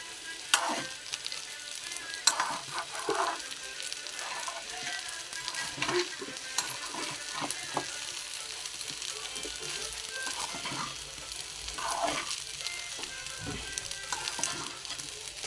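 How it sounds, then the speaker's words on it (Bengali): Food frying in a pan while being stirred: a continuous close sizzle broken by repeated scraping and clinking strokes of a spoon, steady throughout. "আর একটু ভেজে নিই"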